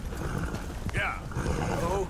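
A horse trots in Red Dead Redemption II, its quick hoofbeats running under dense game ambience, with a short whinny-like call partway through.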